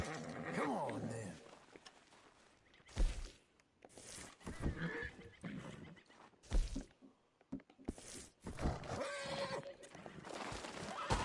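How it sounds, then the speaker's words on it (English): Horse in Red Dead Redemption 2 whinnying near the start, with hoof clip-clop and other game sounds in choppy bursts, while someone talks at times. "Ah, cavalo."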